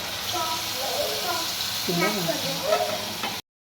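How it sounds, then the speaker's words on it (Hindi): Chicken fries with spices in a pan, giving a continuous close hiss and sizzle. Voices can be heard faintly over it before the sound cuts off suddenly. "अभी जो है चिकन फ्राई हो रहा है, इसमें मसाले वगैरह ऐड कर दिए।"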